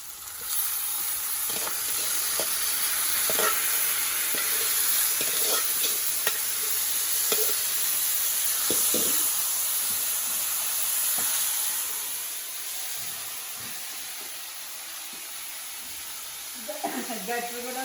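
Tempering (talimpu) sizzles and hisses steadily for Kadapa-style clay-pot dal, with stirring clicks and a soft voice in the background.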